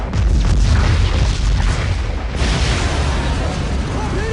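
A short-lived explosion effect made for the sound of a new version of the war film Das Boot: a loud, dense low rumbling roar that fills the whole stretch without letting up.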